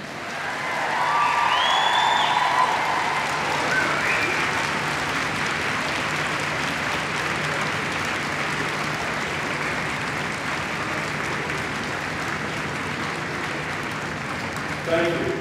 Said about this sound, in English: Face your guests, and now applaud them.